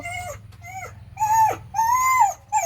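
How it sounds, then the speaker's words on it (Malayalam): A dog whimpers in a series of high, rising whines, short cries growing longer and louder, close by with no talking. "ആ പട്ടി ഇതുവഴി ഇറങ്ങി ഓടി അതിനു വേണ്ടിയാണ് കേട്ടോ റവോജി കിടന്ന് കരയുന്നത്"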